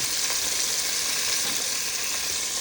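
Steady, loud sizzling and crackling of chicken frying in hot oil, a continuous hiss with no voices.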